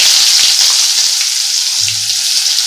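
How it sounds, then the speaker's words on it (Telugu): Onions fry in hot oil with a loud, dense, continuous sizzle up close, a steady hiss throughout with a faint low hum near the end. "ఇప్పుడు వేగుతుండగానే ఆనియన్స్ వేయాలి"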